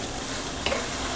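Beef liver bhuna curry cooking in a pan, a steady close sizzle with a single short scrape of stirring midway.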